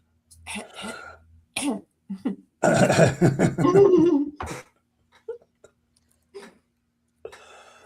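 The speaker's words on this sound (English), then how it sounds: "I'm coughing my ass off" A burst of harsh, repeated coughing and throat clearing, close and loud, followed by a few quieter short coughs and pauses.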